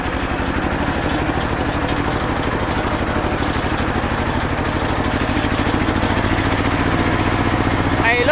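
Modified walking-tractor engine, a 9.5 hp Kubota unit, labours steadily while towing a farm three-wheeler trailer, its loud close chugging continuous throughout with a slight rise at the end.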